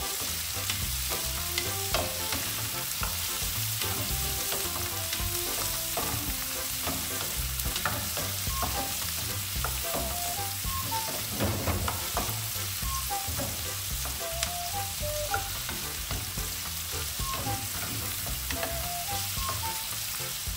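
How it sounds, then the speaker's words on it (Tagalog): Tomatoes sauté in a hot oiled pan as they cook down, giving a steady sizzle and frying crackle with frequent scraping and clinking of a utensil stirring, and no one speaks. "So, igasa lang din natin hanggang maluto ang ating kamatis."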